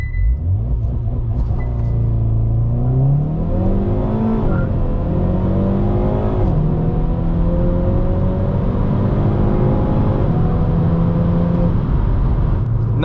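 A 2022 Hyundai Veloster N with dual-clutch gearbox launching under launch control, engine rising in pitch through several upshifts, loud and close from inside the car, no talking.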